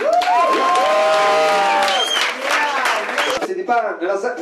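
Studio audience applause and cheering on an Italian TV talk show greeting a music group, loud and sustained with whoops and voices over clapping, easing slightly toward the end.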